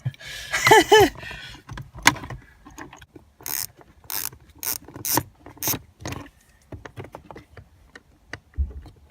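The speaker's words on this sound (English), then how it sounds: "we're gonna remove these screws. 7mm socket." A ratchet fitted with a 7mm socket removes screws from plastic trim on a 2015-2017 Ford Mustang, giving several short bursts of rapid clicking between quieter pauses.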